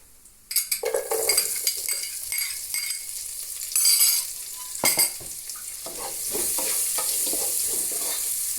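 Chopped onions dropped into a hot pan after ground fenugreek, for a fish curry, start a steady sizzle and frying hiss that builds and holds, with scraping spoon stirs and metal clinks early on.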